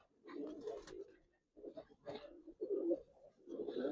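Giribaz pigeons coo softly and close, in several short throaty bursts of gurgling calls separated by brief pauses, in a quiet setting.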